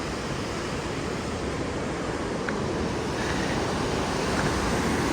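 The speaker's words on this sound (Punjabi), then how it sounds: "ਇੱਧਰ ਪਾਣੀ ਦੀ ਆਵਾਜ਼ ਤੁਹਾਨੂੰ ਆਉਂਦੀ ਹੋਣੀ ਆ" Flowing river water at Govind Ghat makes a dense, constant roar, loud and close, with no voices.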